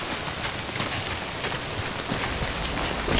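Steady rain pattering on surfaces in the game Death Stranding, a constant, moderately loud wash of drops without pause.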